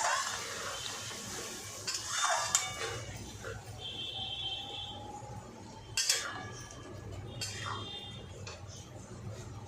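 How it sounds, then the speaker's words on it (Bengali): Spoon scraping and stirring a ground paste of coriander, cumin, ginger and chilli with rohu fish head and potatoes frying in a pan, a steady low sizzle broken by a few sharp metallic clinks of utensil against the pan. "ধনে জিরে আদা লঙ্কা একসঙ্গে বেটে রেখেছি এটা দিয়ে দেবো এবার ভালো করে কষাবো"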